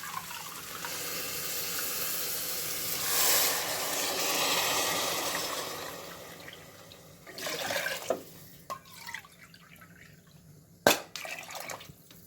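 Water runs from a tap and pours into a cooking pot for boiling rice, a steady hissing flow that swells and fades, followed by a few splashes and one sharp clatter near the end.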